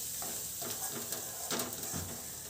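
Masala sautés in oil over a high flame for a ghol bhaji dal, giving a faint, steady sizzle broken by a few soft stirring scrapes of a spoon in the pan; no one speaks.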